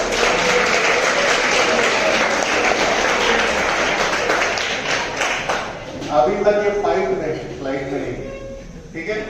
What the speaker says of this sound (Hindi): जोरदार ताली हो जाता है